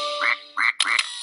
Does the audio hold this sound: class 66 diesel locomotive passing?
no